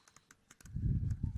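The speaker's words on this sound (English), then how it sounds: "Can't even type on this thing." Typing on a new Mac keyboard: a few sharp, separate key clicks in the first half-second, followed by a louder low rumble of handling noise.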